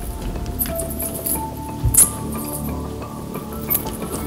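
Inside a cave with a thick guano-covered floor, bats make faint, scattered high chirps and squeaks over a murky low rumble, with a brief louder burst near the middle.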